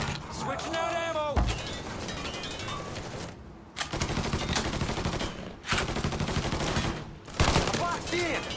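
Sustained automatic gunfire in Mafia 3 rattles in dense bursts with only brief pauses, loud and close, while voices shout over the shooting.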